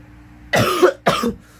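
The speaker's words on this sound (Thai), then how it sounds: "มีติดอย่างเดียวคือไอ" Two harsh, wet coughs from a man recovering from influenza, close and fairly loud, the second shorter than the first, with quiet room background between them.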